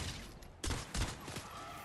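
A few bursts of assault weapon gunfire from the Fortnite Save the World game, firing the Blackout weapon, heard as short loud volleys in quick succession.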